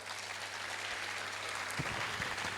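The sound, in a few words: audience applause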